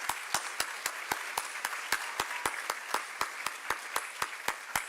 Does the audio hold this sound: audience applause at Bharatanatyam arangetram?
yes